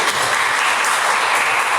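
A church congregation bursts into brief, dense, steady applause, a close and loud wash of clapping lasting about two seconds.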